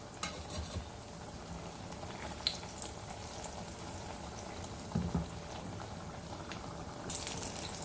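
Bottle gourd pakodas, Sindhi style, frying in oil that is still not fully hot: a soft, steady sizzle and bubbling with faint scattered crackles, quiet and continuous, with no talk.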